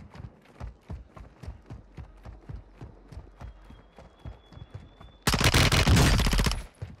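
Gunfire in the shooter game Warzone 2.0 with a PDSW 528, a run of rhythmic thumping steps followed by a loud, dense burst of rapid automatic fire lasting over a second, close and without speech.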